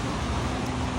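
Continuous, steady road traffic rumbles outside a café's panoramic windows, a broad, loud, unbroken hum with no pauses.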